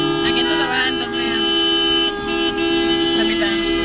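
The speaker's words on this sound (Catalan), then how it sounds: "Està pitant." Car horns honk repeatedly in traffic near La Roca del Vallès, loud and close, with a sustained tone under voices talking.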